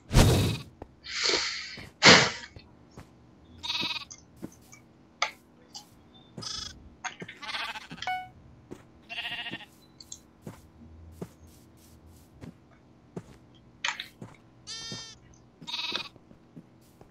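Sheep bleat repeatedly in short, nasal calls, some close and loud, others fainter, scattered irregularly with quiet gaps and clicking noises between them.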